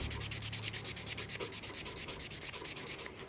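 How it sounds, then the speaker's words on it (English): Rapid rhythmic sanding strokes, about eight per second, scrape back and forth steadily up close on the metal contacts of a Honda Accord headlight and turn-signal combination switch, then stop abruptly near the end. "Just start sanding it down."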